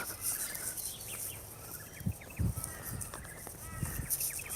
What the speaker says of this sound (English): Everywhere you stand, you can hear birds.